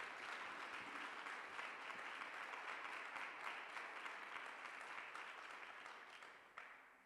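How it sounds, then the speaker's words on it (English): Sustained applause from an audience at a business marketing masterclass, dense even clapping heard at a distance that slowly thins out toward the end. "A round of applause for Mr."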